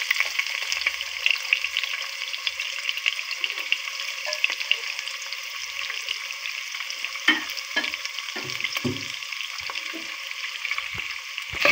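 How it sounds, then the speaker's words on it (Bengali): Onions sizzle and crackle steadily in hot oil in a pan for a desi chicken curry, a close, continuous hiss with occasional stirring scrapes and no talk. "পেঁয়াজটা লাল করে নেব।"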